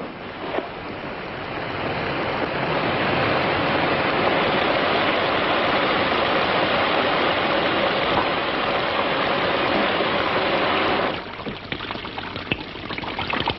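Shower water running steadily as a dense, hissing spray, loud and continuous for most of the stretch before cutting off abruptly, leaving a quieter room.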